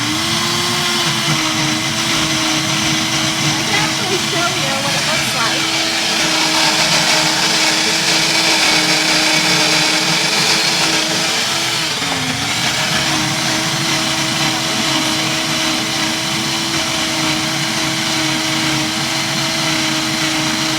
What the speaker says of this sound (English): we're at the point where I'm going to be blending this